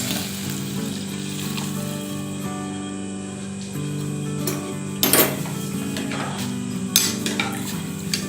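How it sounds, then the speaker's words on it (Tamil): Steady sizzling from a hot frying pan with a low hum underneath, broken by two brief louder splashes as water is poured into the pan while cooking porridge. "இப்போ அதில் நம்ம தண்ணி ஊற்றிக்கலாம்."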